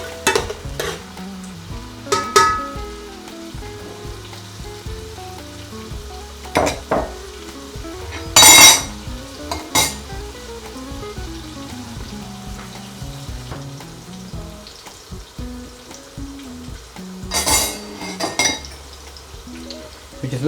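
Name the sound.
onion frying and stirred in oil in a pan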